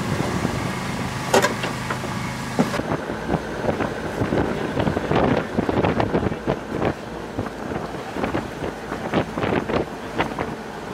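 A small boat rides across open water toward Taal volcano, with a steady engine drone, heavy wind buffeting the microphone and repeated thumps and splashes of the hull slapping waves, loud and continuous throughout.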